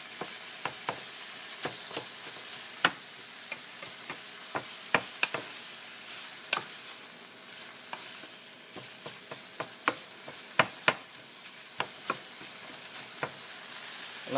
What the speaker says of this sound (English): while I'm doing this stir frying.